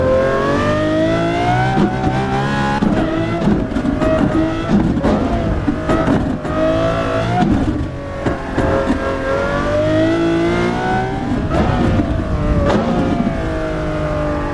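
A Porsche Carrera GT's engine howls as it climbs through the revs down a racing circuit, with rising pitch sweeps, shifts between gears, and brief dips before the loud, high-pitched wail builds again; no voices.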